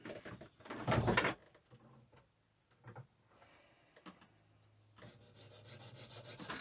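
Metal pins for a hunting knife handle being cut to length, with a loud burst of rough rasping early on, then quieter scraping and rubbing strokes resuming toward the end.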